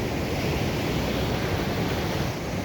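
Ocean surf on Shi Shi Beach in Olympic National Park, a constant loud wash of breaking waves with some wind rumble, steady and close with no voices.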